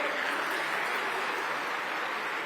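An audience at an event in Bihar applauds in a steady, even wash of clapping that fills the whole stretch. It stays moderately loud, with no voices above it.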